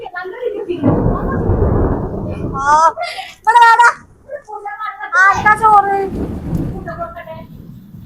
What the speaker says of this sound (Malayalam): ഭയങ്കര ഇടിയും മഴയാണ്.